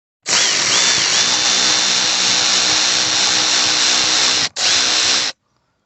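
A power driver loosens T20 Torx bolts on a Mercedes ML 350 V6 CDI, running in one loud, steady whir for about four seconds, cutting out briefly, then whirring again for a shorter burst before stopping.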